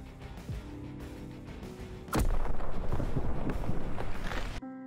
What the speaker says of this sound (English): you're going to shoot your launcher over